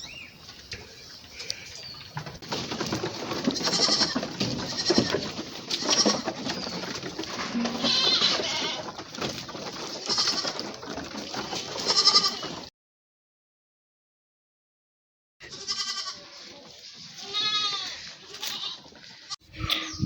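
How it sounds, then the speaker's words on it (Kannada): Goats bleat repeatedly on a goat farm with over forty animals, several overlapping calls close by, then a short silence before more bleating resumes. "ತುಂಬ ಆಡು ಉಂಟು, 40 ಆಡು ಮೇಲೆ ಉಂಟಲ್ಲ"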